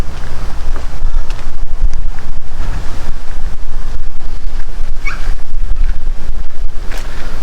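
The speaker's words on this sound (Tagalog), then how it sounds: "Ang ganda na ng daloy ng tubig sa kanal." Water rushing steadily through a canal beside a road, a loud, continuous broadband flow with gusty, wind-like roughness throughout and no voices.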